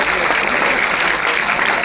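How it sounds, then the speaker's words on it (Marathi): A crowd at a school founders' day ceremony claps loudly and continuously for students honoured for a scholarship exam, a dense, even wash of hands with a voice faintly beneath. "जोरदार टाळ्या वाजवा सगळ्यांनी"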